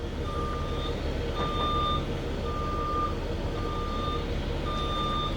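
A school bus backs up with its reversing alarm beeping in a steady, evenly spaced series over a constant low engine rumble, loud and close with no talking.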